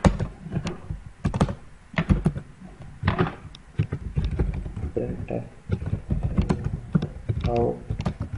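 Quick, uneven clatter of keys on a computer keyboard as C program code is typed in Dev C++, close and fairly loud, with bursts of strokes and short pauses.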